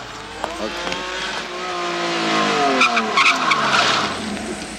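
A car braking hard with tires skidding: a sustained, wavering squeal of rubber that bends in pitch over several seconds, fairly close, with light engine and road noise underneath.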